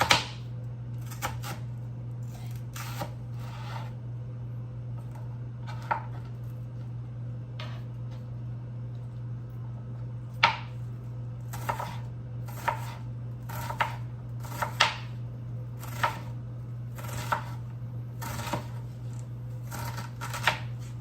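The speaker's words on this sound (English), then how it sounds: "my knife is not sharp, this is how I cut" Vegetables for barley soup are chopped with a dull kitchen knife, giving sharp, irregular chops on a cutting board, sometimes in quick bursts, over a steady low hum.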